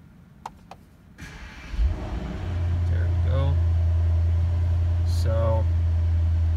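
A Mercedes-AMG GT63 S 4-door cranks and fires up, a brief starter whir rising into a loud, steady low engine idle that holds to the end, with a short word spoken just before.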